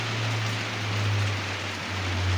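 Rain falls on a farm in a steady, dense hiss that holds even throughout, with a constant low hum underneath and no voices.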